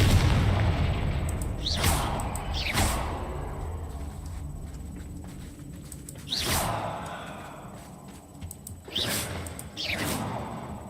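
Confringo blasting spells in the Hogwarts Legacy video game: several whooshing bursts, each ending in a booming explosion, spaced a few seconds apart and fading out between hits.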